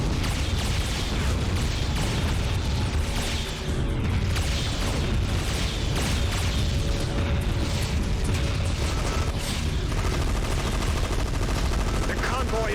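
Heavy gunfire and explosions in the video game Gun Metal as a convoy comes under attack: dense, continuous machine-gun bursts and booms filling the whole stretch, loud and close.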